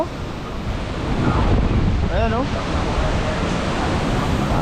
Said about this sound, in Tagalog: Ang lakas na ng bugso ng hangin.